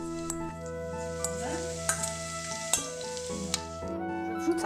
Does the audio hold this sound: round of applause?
no